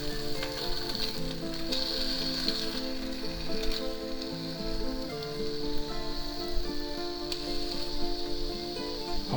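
A ham and cheese sandwich sizzles steadily on a hot grill, a continuous crackling fry with no talking.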